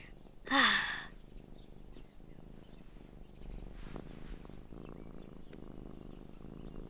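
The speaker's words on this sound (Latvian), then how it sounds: "Paklausies. Viņš murrā." In an animated children's cartoon, a cat purrs softly and steadily in a quiet room after a brief sharp breathy burst at the start, staying low and continuous with no one talking.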